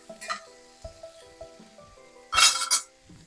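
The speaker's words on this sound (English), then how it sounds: "we need to cook this until the onions and the peppers have sweated and become, translucent and are starting to caramelize" Onions and peppers fry in a skillet with a soft sizzle, broken by several clinks of a utensil and a louder burst of stirring near the end.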